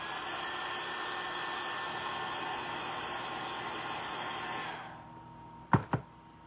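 A hair dryer blows a steady, close whirring stream of air at a glued bee craft, then switches off, followed by two sharp knocks.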